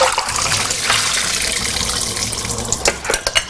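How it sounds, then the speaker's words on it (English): Soaking water pours off two cups of raw cashew nuts draining in a kitchen sink, a loud rushing splash that breaks into a few gurgles and clunks at the end. "I have 2 cups of raw cashew nuts right here soaking in water. So I'm going to drain these now."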